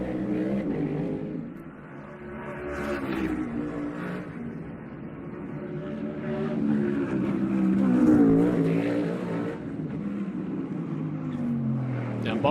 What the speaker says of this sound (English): Squealing and screaming around this racetrack.